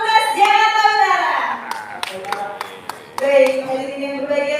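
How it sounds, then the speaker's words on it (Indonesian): Sparse, separate hand claps from an audience, a handful of sharp claps in a row between stretches of speaking voices, for a Betawi pantun-exchange group performing at a festival. "Beri tepuk tangan yang meriah untuk Padepokan Sinar Pamungkas Jakarta Utara"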